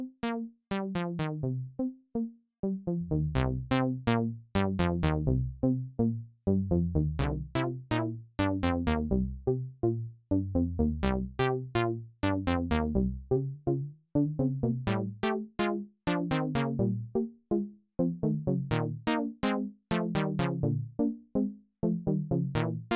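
A digital hybrid synthesizer plays a plucky, percussive melodic sequence, with quick rhythmic notes in a bouncing pattern and no voices.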